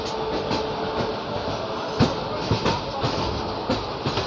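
Shirdi–Kalka Superfast Express pulling into a station platform, a steady rolling rumble with irregular clicks and clanks of wheels over rail joints throughout, close and fairly loud, no talk.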